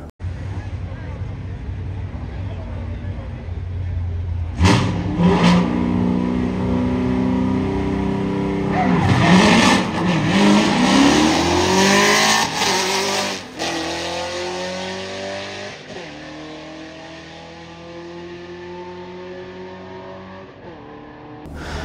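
A Whipple-supercharged Ford Bronco Raptor launches down a drag strip at night, engine revving hard and roaring as it accelerates, then pitch sweeping up through gears and fading as it pulls away; voices and crowd noise sit underneath.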